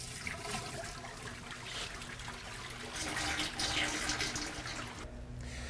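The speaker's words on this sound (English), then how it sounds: "all the water flows to the back corner of the tank where the recovery hose happens to be located" Water drains steadily into the recovery tank of a Fang 20C floor scrubber, a continuous rushing, trickling flow inside the tank that swells slightly partway through, with no talking.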